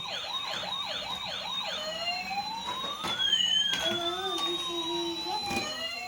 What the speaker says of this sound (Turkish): Şimdi ışıklı ambulans geliyor.